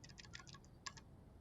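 Quick, faint clicks of fingers typing on a computer keyboard, a short burst of keystrokes with no one talking.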